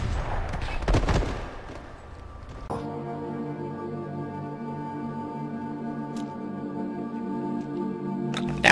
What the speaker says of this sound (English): The sound of the guns, the sound of the bullets, the sound of the shells hitting the floor